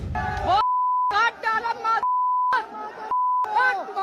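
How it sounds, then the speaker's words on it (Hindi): A steady censorship beep cuts over the audio three times, each tone lasting about half a second, set between stretches of speech, loud and flat. "बीप लगानी पड़ रही है"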